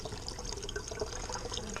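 Liquid poured from a container into a pyment fermenter during a home winemaking batch, a faint, steady trickle and splash with small drips, close by and continuous.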